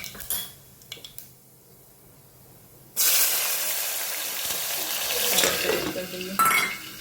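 Cumin seeds and asafoetida hit hot oil in a pan and burst into a loud, steady sizzle after a few seconds of quiet clinking utensils.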